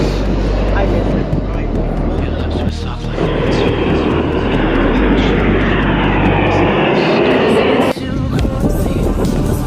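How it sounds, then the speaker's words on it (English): Boeing 737 MAX 9 airliner roaring past at a plane spotting location, a loud, sustained broadband engine rumble that swells and shifts, with people talking over it. "This is a Max 9 737."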